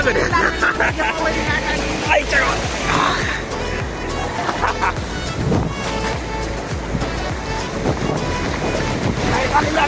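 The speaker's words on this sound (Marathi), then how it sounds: "एक लाट आली मोठी लाट आली" Ocean waves break and wash along the beach at Nagaon, with wind buffeting the microphone and a steady surf roar beneath people talking and calling out nearby.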